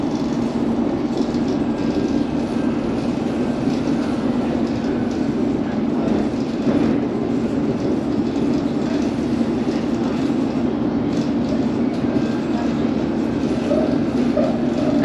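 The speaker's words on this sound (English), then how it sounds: "where the train is passing by now" A London Underground train running through the Buckinghamshire hills gives a loud, steady rumble and rattle that continues unbroken for the whole stretch, with no voices.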